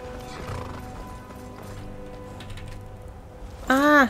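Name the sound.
horse hooves and neighing in video game Skyrim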